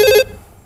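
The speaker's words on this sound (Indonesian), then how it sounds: "Kita angkat telepon lagi." A single short electronic telephone ring on a TV call-in show, one bright burst of ringing lasting a fraction of a second, then cutting off into near silence.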